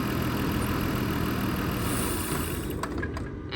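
A car engine runs steadily, then falters and cuts out near the end after being grounded at the strut tower, the rumble dropping away into near silence.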